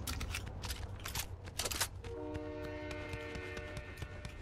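A video game train rumbles past with its horn sounding steady sustained tones from about two seconds on, over a constant rolling rail noise and a few sharp bursts early.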